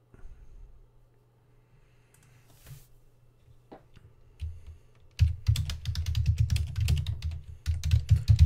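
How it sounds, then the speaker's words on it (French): Computer keyboard typing, first a few scattered quiet taps, then a dense run of rapid close keystrokes continuing to the end. "Je tape un titre, j'enregistre."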